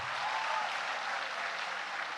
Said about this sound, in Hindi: अब आप अपने लिए भी ताली बजाइए